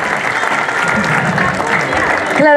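Loud audience applause at a cultural evening event, a dense, continuous wash of clapping from a crowd that holds steady throughout, with a voice beginning to speak at the very end.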